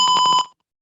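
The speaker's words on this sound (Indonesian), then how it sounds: "maka buzzer akan" A PIR motion sensor alarm buzzer sounds a loud, close, rapidly pulsing electronic tone for about half a second, then cuts off to silence.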